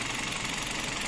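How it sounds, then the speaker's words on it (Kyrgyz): A car engine idles steadily at close range, a dense continuous rumble with a faint knocking texture and no voices, from a used Hyundai Solaris or Skoda Octavia offered for sale. "Мына мотордун үнүн угуп турасыздар."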